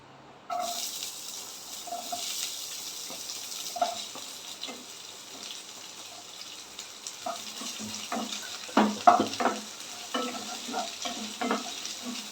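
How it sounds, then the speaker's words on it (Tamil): Chopped onions sauté in a hot pan for chana masala, a soft continuous sizzle broken by scattered scraping and stirring clatters that grow busier toward the end. "ஆனியன் சேர்த்து கொஞ்சம் நல்லா வதக்கிக்கோங்க"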